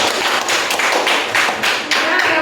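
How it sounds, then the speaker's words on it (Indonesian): A classroom group claps during a peer-teaching session, a loud, close flurry of hands with a few heavier slaps standing out in the brief burst. "Silakan tepuk tangan untuk"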